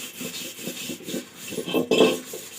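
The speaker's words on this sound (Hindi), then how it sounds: "तो मैंने भगोने को देखिए यहाँ पर मांज लिया है," A cooking pot is scrubbed clean by hand in a village home, with rhythmic, gritty rubbing strokes that grow louder and rougher toward the end.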